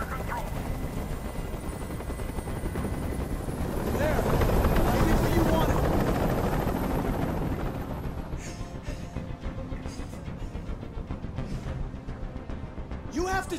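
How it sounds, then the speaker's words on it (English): A helicopter's rotor thrum in the video game Detroit: Become Human swells loudly overhead and then slowly fades, with steady chopping noise throughout. "Tell that helicopter to get out of here."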